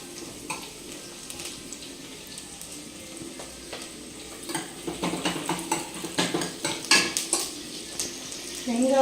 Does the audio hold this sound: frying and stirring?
yes